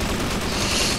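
Explosions and gunfire in the Half-Life co-op game Sven Co-op, a dense, continuous roar of blasts and shots filling the whole second with no talk over it.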